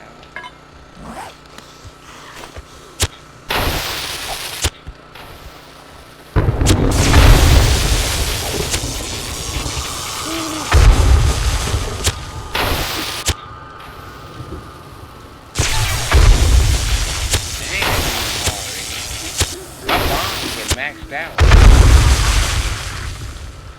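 Bombs dropped from a helicopter exploding in the game 7 Days to Die, several heavy booming blasts that each swell and roll off, spread across quieter stretches of low rumble and clicks.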